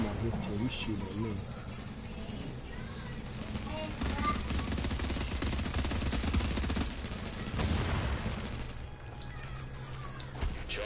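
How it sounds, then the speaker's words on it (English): Teammate gunfire in The Division: steady automatic shooting that keeps up for several seconds, with loud dense stretches in the middle, under someone talking. "he was shooting at me, I'm on his team, he's shooting at me"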